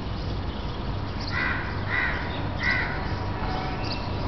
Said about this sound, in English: there's the crow coming here